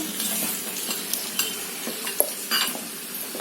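Cashews and raisins fry in ghee under a gentle close sizzle, broken by the scrape and clink of a spoon stirring them around the pan. No voices are heard.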